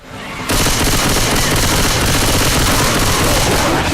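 Dense, continuous gunfire in the zombie shooter Left 4 Dead 2, a loud burst of rapid shots kicking in after a brief quiet start and sustained as a near, chaotic fusillade with booms mixed in.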